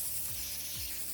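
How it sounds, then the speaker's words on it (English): Bacon grease sprayed from a can onto a cake pan, a brief continuous hissing spray lasting about a second, close and fairly soft. "you're gonna take a little bacon grease, spray the pan"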